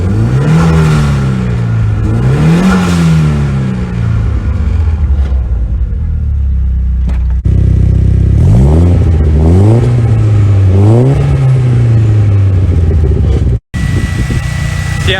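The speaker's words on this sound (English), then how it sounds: "Let's fire this thing up and we'll just do a quick sound check on it." A CA18DET-swapped Mazda RX7 FC fitted with a Blitz blow-off valve on a custom trumpet starts and revs. Loud rising and falling revs repeat over a rumbling idle, with an abrupt cutoff near the end.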